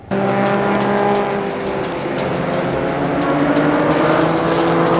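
Race cars lap the Laguna Seca circuit during a time attack session, their engines droning loudly and steadily with a high whine, and a continuous near pass runs through the whole stretch.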